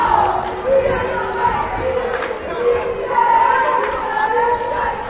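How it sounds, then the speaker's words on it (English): Basketball crowd in a high school gym, Bobcats vs Northside, fussing at the scorekeeper: a loud, restless murmur of voices with shouts rising and falling, squeaks and a bouncing ball heard amid it. "the crowd fussing because the scorekeeper ran a full second off of the clock"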